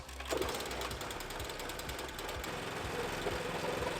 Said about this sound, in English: You hear how quiet that motor is?